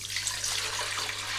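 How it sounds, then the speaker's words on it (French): Cold water pours into a container for mixing alginate for a hand impression, a soft, continuous hiss and splash heard close up over a faint low hum. "Je mets d'abord l'eau."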